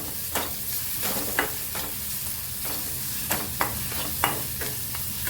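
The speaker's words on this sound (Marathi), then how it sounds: "यामध्ये आलं लसूण पेस्ट टाकून घे आलं लसूण आणि मिरची आहे थोडीशी तेला छान परतून घे" Ginger garlic paste and chili sauté in hot oil with a constant sizzle, broken by a few sharp scraping stirs of a spoon against the pan.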